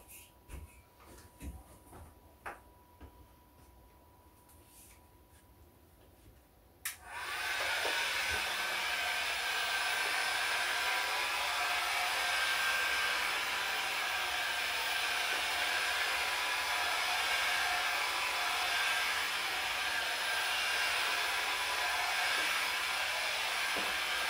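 A hot air dryer heats a flat steel piece being formed into a handpan shell: quiet clicks and handling at first, then the blower kicks on abruptly with a loud, steady hissing roar that continues to the end.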